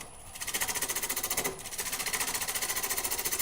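A wood lathe runs at nearly 900 RPM before turning a box and bowl, giving a close, loud, steady rhythmic whirring pulse with a brief dip midway.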